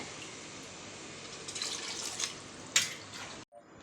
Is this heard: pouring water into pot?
yes